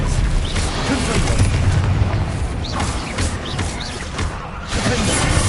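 Fiery Confringo and Incendio spell blasts from the game Hogwarts Legacy, a run of loud booming bursts and crackling impacts overlapping one another in steady combat, with a voice calling out spell names over them.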